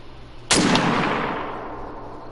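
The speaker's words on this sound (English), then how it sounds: "I'll shoot the buck." A single hunting rifle shot fired at a buck in theHunter: Call of the Wild, a sharp loud crack followed by a long rolling echo that fades slowly.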